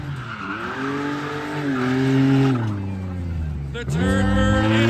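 A car with its exhaust hanging off and dragging makes a loud, raspy droning roar that swells and dips in pitch with the revs, close and continuous throughout, with a brief lull near the end before it surges again.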